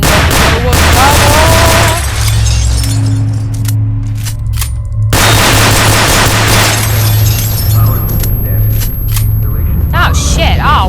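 Gunfire in the STALKER game during a firefight. Loud, dense bursts of shots and booms alternate with quieter gaps, with electronic tones and a close voice speaking over the fighting.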